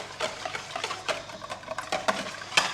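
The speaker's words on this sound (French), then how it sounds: "Ensuite, vous vous munissez d'un petit fouet et vous fouettez le tout." A small whisk beats a cream mixture in a bowl, a quick irregular run of soft scraping strokes close by, with no talking.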